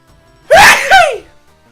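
A single close, loud sneeze in two quick bursts, a sharp intake followed by the explosive release, alone against a quiet room.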